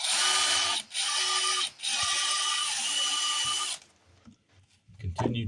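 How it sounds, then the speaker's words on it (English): Power drill boring out a rivet, a steady high whine that cuts out twice for brief pauses, then stops, leaving quiet handling noise and a faint thump at the end. "Continue drilling."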